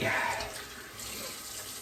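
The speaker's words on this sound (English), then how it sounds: "So I'm gonna run a bit of water here, do a cold water rinse" Cold tap water runs into a bathroom sink for a quick face rinse after a wet shave, a steady splashing hiss that is strongest at the start and then settles to an even, moderate flow.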